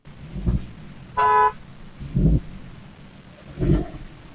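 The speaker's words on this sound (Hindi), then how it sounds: "गाड़ी बहुत बहुत ज्यादा लाउड साउंड कर रही है, विच मीन्स इसके एग्जॉस्ट में कहीं तो लीक आ गया है।" A Mercedes car engine with an exhaust leak revs in three loud, rough bursts, with a brief horn toot between the first two, close and without talk.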